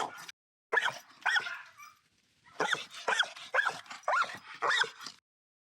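Dog behind a railing barking and whimpering in a run of loud, close yips and whines with short pauses between bursts, no talking.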